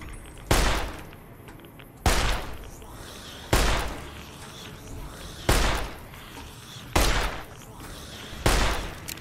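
Gunfire in Fallout: New Vegas during a low-level fight against a powerful enemy: six loud, sharp shots spaced a second or two apart, each with a brief tail, over a low background rumble.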